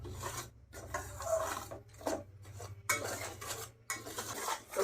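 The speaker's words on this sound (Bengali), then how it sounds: "হালকা করে একটু সুজিটা আমি ভেজে নেব" Semolina being dry-roasted in a pan, stirred with a utensil that scrapes and rasps against the metal in repeated rhythmic strokes, close and fairly quiet, over a low steady hum.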